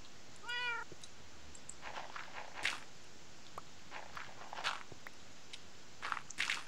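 A Minecraft cat meows near the start as a short falling series of mews, then scattered soft clicks and crunchy game sounds follow with no talking.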